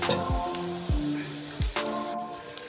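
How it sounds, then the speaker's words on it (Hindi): Spinach pakoras fry in hot oil with a steady close sizzle, broken by several sharp low thumps and knocks, and no talking. "आपने इनको लाइट ब्राउन होने तक फ्राई करना है।"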